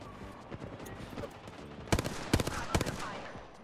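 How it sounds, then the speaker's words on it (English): Single-fire shots from an R3 gun in a video game crack out as a few sharp, spaced reports, while players talk quietly underneath. "Who is single firing me with a R3?"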